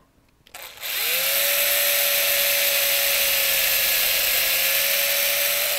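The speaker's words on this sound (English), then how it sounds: "I stop just shy of that tape just to ensure that I am not going to drill through that headstock." A power drill boring into a wooden guitar headstock to fit Kluson tuners spins up after a brief pause, then holds a steady, loud, high whine for several seconds with no talk.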